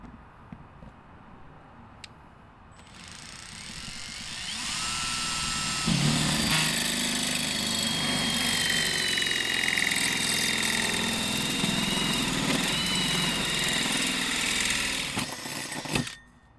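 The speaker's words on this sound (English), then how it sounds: "I'm going to take this hole saw and I'm going to go ahead and finish the hole right through here" A drill spins up and a hole saw grinds steadily through the wall panel of a RAM Promaster 2500 van for about ten seconds, loud and close, then abruptly stops.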